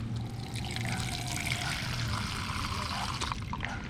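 Toilet bowl cleaner pours in a steady liquid trickle onto wire connectors during a 1966 Ford Galaxie 500 convertible restoration, a continuous close splashing dribble with a faint voice in the background.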